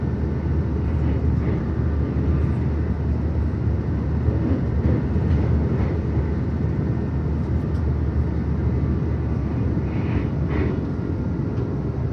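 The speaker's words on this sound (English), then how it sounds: "This is a Gympie North train, stopping all stations." A low, continuous rumble of a Gympie North passenger train rolling along the tracks on Brisbane's Sunshine Coast Line, steady and fairly loud throughout with a broad mechanical roar.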